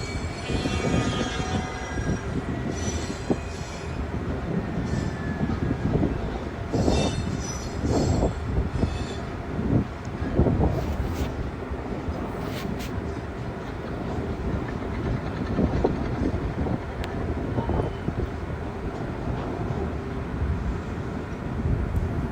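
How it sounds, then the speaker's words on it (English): A train carrying military equipment rolls steadily along the rails in central Russia, a dense continuous rumble with wheel clatter and occasional high metallic squeals, loud and close throughout. "They are mounted on a train and they are on the move."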